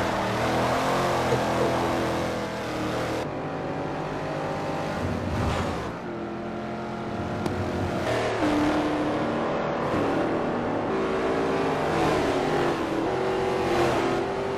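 Racing engine of a 1968 Pontiac Firebird in a historic Trans Am race at Sedona in a racing video game, a loud continuous roar with rising and falling revs and gear changes, steady throughout with no talk.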